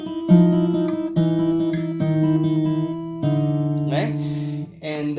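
Fingerstyle guitar picks a theme intro, a repeated plucked bass-and-treble riff in close, clear phrases, with brief speech cutting in near the end.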